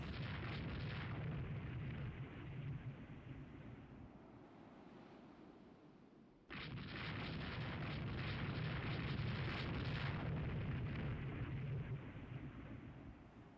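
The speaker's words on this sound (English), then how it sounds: "it's shooting very many 6-inch guns in return" Rumbling, sustained roar of 6-inch naval gunfire and explosions in the naval strategy game Rule the Waves 3, a dense wash of booms that drops briefly and then surges back loud and continuous.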